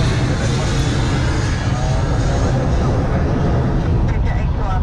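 An airliner at Melbourne Airport departing, a steady broadband engine roar close by and loud, constant across the whole stretch, with a voice talking underneath.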